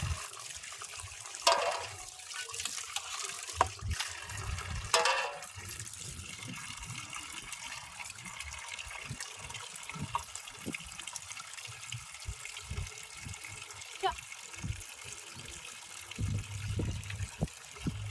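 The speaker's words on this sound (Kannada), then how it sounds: "ನಾನು ಇವೀಗ ತೊಳಿಬೇಕು ರೀ, ಅದಕ್ಕೆ ಬಿಸಿ ಹಾಕ್ತೀನಿ ರೀ" Tap water runs and splashes steadily while about 1.5 kg of snakehead fish is washed, with occasional louder gushes and clatters over a constant flow.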